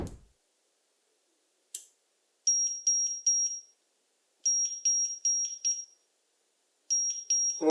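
A VHM-018 daily timer relay sounds its alarm signal, sharp high-pitched beeps in quick sets of four, repeated three times with quiet gaps between them.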